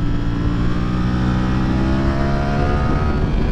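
Ducati V4R motorcycle engine, 2023 model, running with a loud, dense, steady drone close by, pitch holding fairly level throughout without speech.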